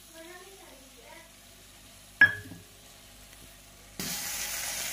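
Masala frying in oil with cashew paste stirred in for paneer masala: a soft sizzle, then a sharp clatter as the paste goes in, followed by a louder, steady hiss of frying to the end.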